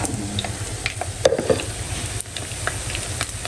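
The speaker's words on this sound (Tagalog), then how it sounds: "Ayan po at nagpiprito na tayo ng binilag na bangus" Steady, close sizzling of butterflied milkfish frying in oil in a pan, with a crackling spatter and a few scraping stirs, no voices.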